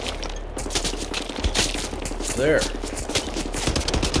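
Rapid automatic gunfire rattles on steadily in Wolfenstein: The New Order on the Gibraltar Bridge, with dense, close shots and a man's brief spoken word over the shooting.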